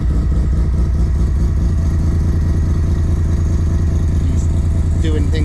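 Big-turbo semi-peripheral-port Mazda FD RX7 rotary engine idling on its first start, a loud steady lumpy rumble with a choppy pulsing beat, close up, with faint voices talking over it near the end.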